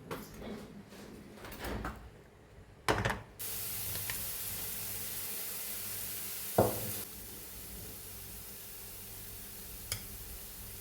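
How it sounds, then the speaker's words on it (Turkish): Chopped onions sautéing in olive oil in a pan on a stovetop, a steady soft sizzle starting after a few clatters and knocks, with occasional stirring or utensil clicks. "Biraz zeytinyağı koyuyoruz. Soğanımızı da ilave edip ocakta kavuracağız şimdi bunu."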